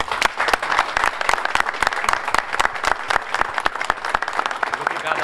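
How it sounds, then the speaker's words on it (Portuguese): An audience at an official minibus handover ceremony gives a dense round of applause, with many hands clapping loudly and sharp individual claps standing out, and some voices underneath. "eu peço uma salva de palmas para ele."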